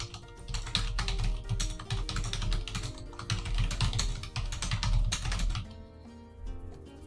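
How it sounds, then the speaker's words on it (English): Typing a message on a computer keyboard: a close, steady run of quick key clatter with uneven rhythm, trailing off into quiet near the end. "when you start to type your message in"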